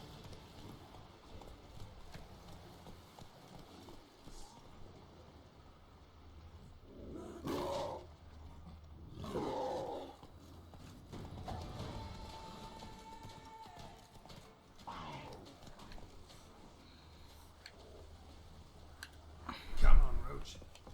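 A horse gallops in The Witcher 3: Blood and Wine with a continuous, rhythmic clip-clop of hooves. Louder bursts of animal roaring from panthers rise over the hoofbeats.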